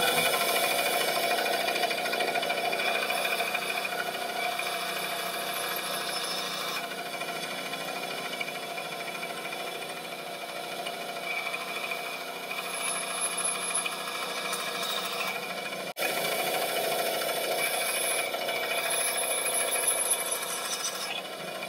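A bandsaw with its table tilted 20 degrees runs through wood for a kayak frame, a steady, loud machine whine with constant cutting noise throughout and a brief dip near the end, with no talking.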